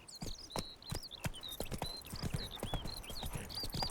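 The horse Roach trots in The Witcher 3 with a quick, steady clip-clop of hooves up close, while birds chirp in the background throughout.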